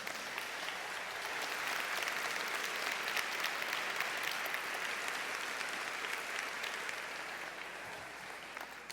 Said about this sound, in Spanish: Denle un aplauso ahí al Señor